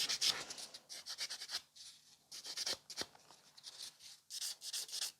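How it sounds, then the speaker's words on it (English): A nail file rasps against the free edge of a gel nail, thinning it in short, quick, scratchy strokes that come in bursts with brief pauses, close and fairly quiet, with no talking. "if it's necessary and just touch it up with the file."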